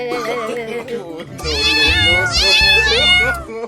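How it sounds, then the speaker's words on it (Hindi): A kitten meows over and over, high-pitched and close, its cries rising and falling in quick succession. "अबे बिल्ली के बच्चे चुप हो जा, मुझे सोने दे।"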